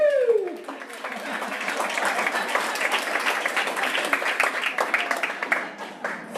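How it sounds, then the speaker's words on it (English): At an end-of-season sports banquet, a room full of people applauds Paul with sustained, dense clapping after a quick rising cheer, staying full and steady throughout. "Let's give one more round of applause to Paul."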